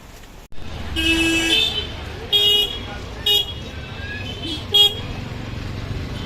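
Busy street traffic outside Dadar station in Mumbai: a steady engine rumble broken by several short car-horn toots in uneven bursts, with a voice talking over the road noise.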